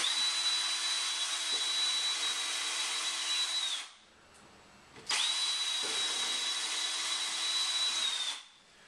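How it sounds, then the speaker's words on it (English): A power drill bores holes into the sides of a window reveal for wood Venetian blind brackets, whining in two long steady bursts with a brief pause between. "Drill your holes into the sides of the reveal."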